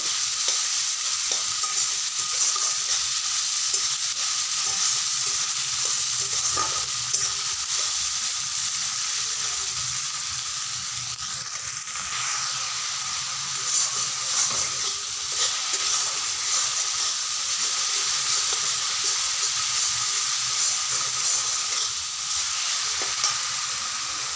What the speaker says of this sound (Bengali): পেঁয়াজগুলোকে একটু লাল লাল করে ভাজতে হবে